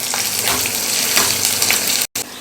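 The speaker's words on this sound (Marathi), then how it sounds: "कढीपत्ता घालूयात हे सगळे पदार्थ आपण एक मिनिटभर छान असे परतून घेऊयात" Ginger and curry leaves sizzling and being stirred in hot oil in a pan, a loud, continuous crackling fry with scraping stirs, ending with a brief dropout of sound before resuming.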